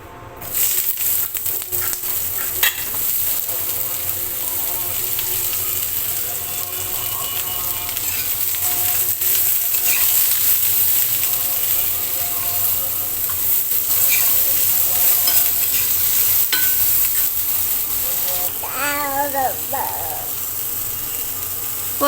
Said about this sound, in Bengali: এই তেলের মধ্যে আমি পটলগুলো ভেজে নেব।